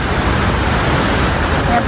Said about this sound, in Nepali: झर्नाको हावा आउँछ नि त सुर्र भएर फुर्र गरेर जाने त्यहाँबाट पुरै पानीलाई सरर भिजाइदिन्छ